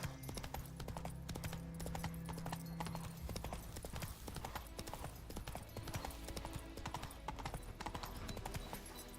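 Hooves of Roach, Geralt's horse in The Witcher 3: Wild Hunt, clip-clop in a steady trotting rhythm throughout, loud and close over a dense game soundscape, with faint voice fragments in the mix.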